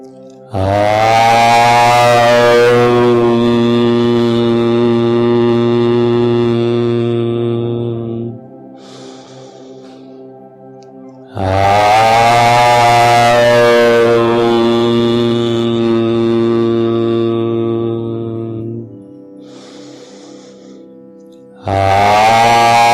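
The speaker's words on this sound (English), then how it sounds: "I will start with recitation of the sound Om 3 times" A deep, sustained chanted Om repeated three times, each long resonant tone ending in a humming close, separated by brief quiet pauses.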